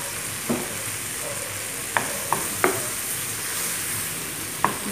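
Shrimp seasoned with salt and black pepper browning in a frying pan for a couscous dish, a steady soft sizzle under several sharp utensil clicks and taps, no talking.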